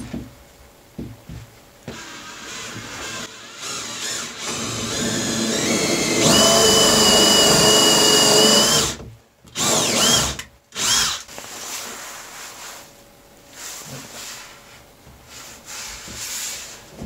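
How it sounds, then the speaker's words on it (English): A power drill whirs in bursts, rising to a long high-pitched spin, then stopping and starting in short runs amid handling clatter. "Don't drill big holes. Little tiny ones."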